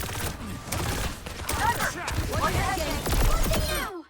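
Juno fires torpedoes in the Overwatch video game, with dense bursts of rapid firing and impact effects layered over the busy sounds of a match, and a voice talks underneath.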